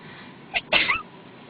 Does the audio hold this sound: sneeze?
yes